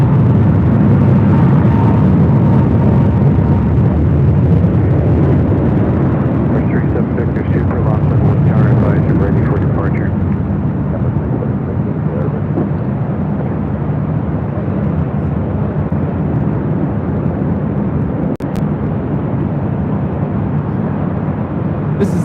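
Delta Airlines A321neo airliner taking off from LAX, a loud sustained broadband engine roar that holds steady and fills the whole stretch, with talk faintly underneath.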